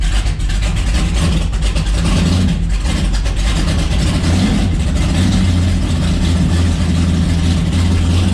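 A 1965 Impala SS drag car's engine runs right after start-up, a loud, heavy, lumpy idle that stays continuous and close throughout with only slight fluctuations.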